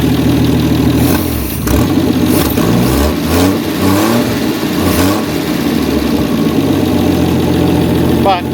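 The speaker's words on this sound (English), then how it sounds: "it sits there and idles now" Ford XL Falcon ute engine after a carburettor rebuild, idling loud and close with a rough, lumpy rumble and a few brief revs, with voices talking over it.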